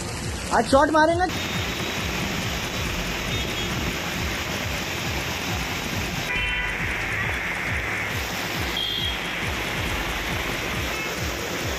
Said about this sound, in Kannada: ಮಹಾರಾಷ್ಟ್ರದ ಪುಣೆಯಲ್ಲಿ ಧಾರಾಕಾರ ಮಳೆಯಾಗಿದೆ